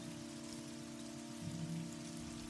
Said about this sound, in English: as the sound of rain is still sort of beating off of the